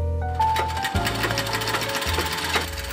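An industrial straight-stitch sewing machine runs steadily through fabric in an old made-to-measure tailor's workshop, a loud continuous mechanical whir with rapid needle clatter and short pauses between bursts.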